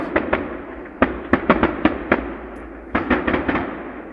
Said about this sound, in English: there's the Dembi firework display tonight, 2025